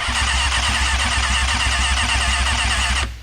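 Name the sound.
Kawasaki ZX6R motorcycle engine cranking, failing to start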